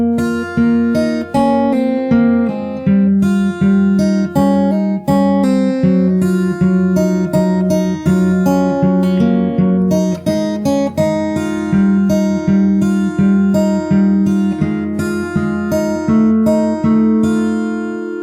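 A solo acoustic guitar picks out a song fingerstyle from the start, with a continuous stream of bright plucked notes over ringing bass strings, steady and close, with no voice.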